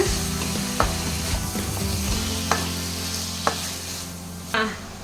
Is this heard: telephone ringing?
no